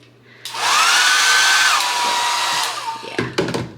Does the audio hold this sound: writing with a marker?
no